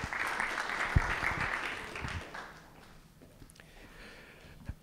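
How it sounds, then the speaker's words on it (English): Audience applause at a startup pitch event at a tech center, a dense burst of clapping that swells early, then thins and fades over the last couple of seconds. "So let's all give them a round of applause."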